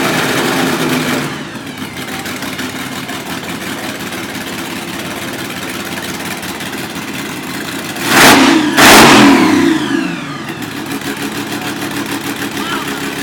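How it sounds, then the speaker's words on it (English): A small block Chevy V8 in a street rod idles with a lumpy, loud burble, then revs sharply twice in quick succession before settling back to idle, heard close up amid outdoor event ambience. "so we could hear what this small block Chevy sounds like"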